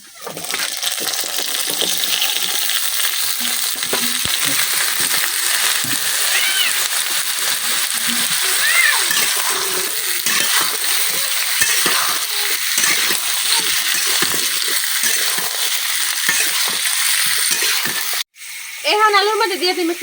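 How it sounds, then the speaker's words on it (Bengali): Potatoes and onions frying in a pan with salt for a village-style silver carp curry, a loud continuous sizzle and crackle under steady talk, ending in a brief break with talk continuing. "লবণ দিয়ে এখন আলুটা খুব সুন্দরভাবে বাজিয়ে নিলাম"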